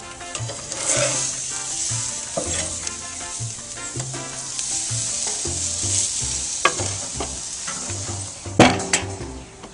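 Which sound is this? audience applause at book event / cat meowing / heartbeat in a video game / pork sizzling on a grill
pork sizzling on a grill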